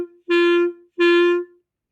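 Two clarinet notes started with an air attack and no tonguing, each swelling in softly with a breathy onset, played alone and close-up with a brief pause between them.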